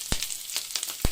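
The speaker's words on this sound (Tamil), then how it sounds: "இதை நல்லா வதக்கி விட்டுக்கலாம்." Chopped onions and green chillies sauté in a hot pan while a papaya stir-fry is cooked, a steady close sizzle broken by a few sharp stirring scrapes.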